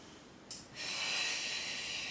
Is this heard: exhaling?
yes